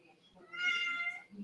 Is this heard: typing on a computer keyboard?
no